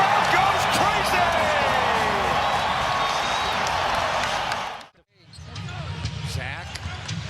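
An NBA arena crowd roars loudly and steadily after a play, a thick wall of cheering with a commentator talking over it, then cutting abruptly to a quieter court scene with squeaking shoes and bouncing.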